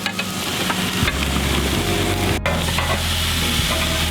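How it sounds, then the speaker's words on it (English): Steady, loud sizzling of food on a hot surface, with occasional scraping and stirring sounds up close. "Just some of that sizzle."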